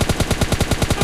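Gunfire in the mobile shooter PUBG Lite: a rapid, evenly spaced burst of about ten loud shots in about a second, close and with no talking over it.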